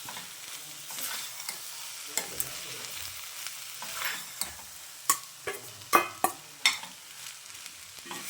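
Cooked rice stirred into a fried spinach and tomato masala for palak rice, a quiet sizzle under repeated clicking and scraping strokes of a spoon that grow louder and quicker toward the end.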